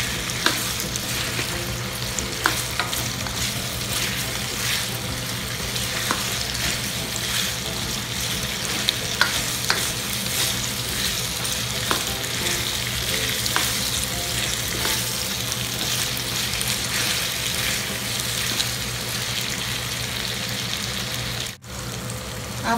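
Vegetables for beef kaldereta fry in a pan, a dense steady sizzle with occasional stirring clinks and scrapes, close and constant for the whole stretch, with no talking.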